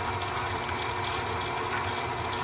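An electric mixer runs steadily, blending heavy whipping cream into whipped butter for chocolate buttercream frosting, with a loud, continuous whirring hum throughout.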